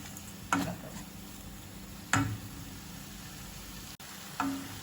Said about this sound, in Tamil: அந்த வெங்காயத்தை நான் இப்போ வதக்கிட்டேன். இப்போ தக்காளி பழத்தை போட்டு